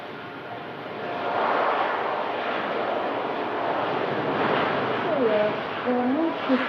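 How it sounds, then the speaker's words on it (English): A Boeing 787-9 Dreamliner of Swedish-registered TUI Fly Nordic spools up for its takeoff roll: a broad, steady jet roar swells after the first second and holds loud, with a faint voice briefly audible over it near the end. "It's Boeing 787-9 Dreamliner. Spools up, begins the takeoff roll."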